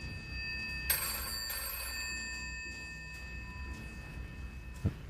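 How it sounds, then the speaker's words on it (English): A studio telephone rings with a bright electronic bell tone, starting about a second in and trailing off, fairly quiet in a calm room with a brief knock near the end. "studio phone's going"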